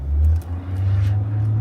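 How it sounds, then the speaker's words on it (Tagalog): A Ford car under full throttle, a steady loud low engine drone that dips briefly and then climbs back, heard from inside the cabin. "Full throttle."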